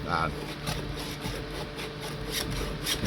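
A Stihl 2 in 1 file rasps along a chainsaw chain in quick, close repeated strokes, each a gritty scraping pass, steady and moderately loud.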